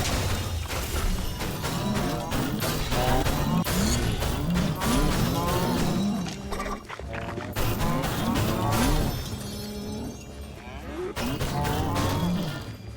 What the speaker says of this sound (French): Oh, des vaches enchantées.